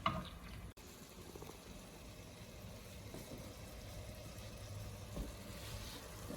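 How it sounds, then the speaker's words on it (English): Chopped onions cooking down in a pan for cotechino and polenta, a faint, steady sizzle and bubbling hiss that holds evenly throughout after a brief click near the start, with no talk. "Okay, and we're going to cook that down."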